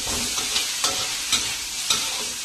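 Fish sizzles and crackles in hot oil in a pan, a steady close frying hiss broken by a few periodic stirring scrapes, no voices.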